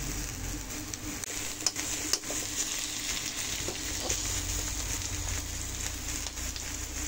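Ginger fries with onion and garlic in hot oil, giving a steady hissing sizzle with a few sharp clicks of stirring scattered through, close and continuous.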